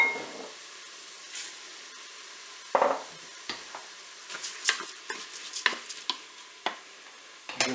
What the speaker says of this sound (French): Je vais maintenant ajouter mon riz.